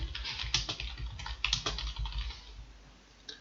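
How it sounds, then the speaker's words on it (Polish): Quick, irregular clicks of computer keyboard keys as a title is typed into a WordPress blog post editor, close and fairly quiet, pattering for about three seconds before trailing off, with no speech. "Na górze wpisujemy jakiś tytuł"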